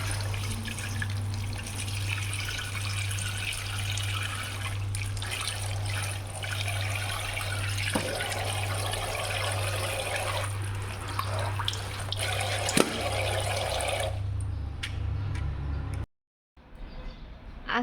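A kitchen tap runs continuously to soak frozen chicken for thawing. The steady rushing stream sits over a low, constant hum, with a few faint clinks, then cuts off abruptly near the end.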